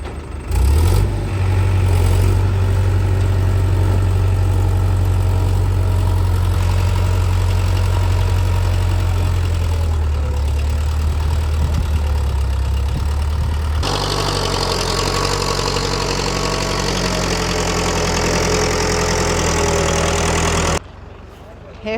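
A new Digitrac tractor engine idles with a steady, deep, rumbling drone that holds throughout, shifting pitch slightly partway through, while people talk nearby.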